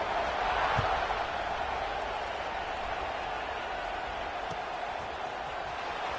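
A stadium crowd in an American football video game sends up a steady, dense roar just before a kickoff, loudest at the start and easing slightly while holding a constant wash of noise.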